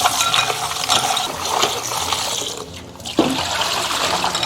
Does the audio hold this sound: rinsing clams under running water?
yes